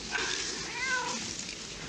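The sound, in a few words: cat meowing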